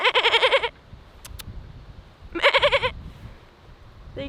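Goats bleat in two loud, wavering bursts separated by a quiet pause, each cry a quavering nasal call lasting under a second, heard close and alone with faint background noise between.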